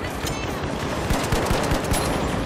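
Rapid automatic gunfire rattles out in THE FINALS, dense bursts of close shots stacked over a steady noisy backdrop with no talk.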